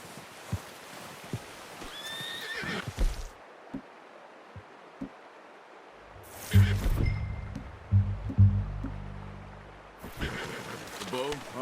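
Horses in the open-world game Red Dead Redemption 2 whinny and snort, with hoof clops in bursts, mixed with intermittent low rumbling and game ambience; people talk at times.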